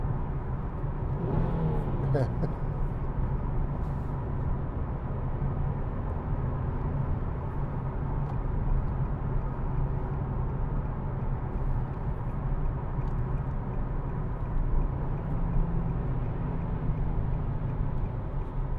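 A 2014 Nissan 370Z GT with a 3.7-litre V6 downshifts inside a tunnel, its engine a steady, loud, enclosed drone with a brief rev blip near the start, under a voice speaking.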